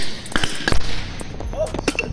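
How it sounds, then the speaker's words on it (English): Small fireworks pop and crackle in quick, sharp bursts close by at a New Year's gathering, with people's voices heard between the bangs. "It was just little baby fireworks, dude."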